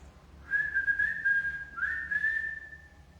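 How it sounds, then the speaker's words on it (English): Someone whistles two sustained, slightly wavering notes, clear and fairly close, with a short gap between them and no talking. "I'll whistle. Can you whistle back for me?"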